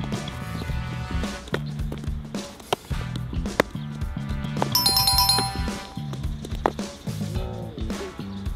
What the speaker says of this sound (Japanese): さあ、LINE が来ました。